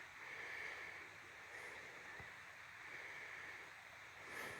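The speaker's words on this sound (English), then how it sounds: "The way the water's lapping on it." Water laps softly against a sandy shore outdoors at night, a faint, steady wash with gentle swells rising and falling and a light breath of wind, no voices.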